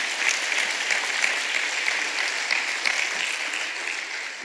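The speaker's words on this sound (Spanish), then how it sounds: "¿Cuántos le brindan un fuerte aplauso al Señor?" Steady, dense applause from a church congregation fills the room, loud and continuous throughout with no pauses.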